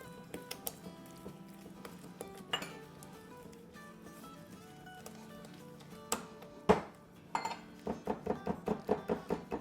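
Sugar being mixed into chocolate brownie batter in a bowl, with a spoon clinking and tapping against the bowl, sparse at first and then settling into a quick rhythmic series of knocks, close and alone.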